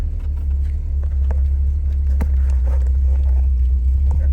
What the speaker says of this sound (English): 1962 Ford Thunderbird POV drive.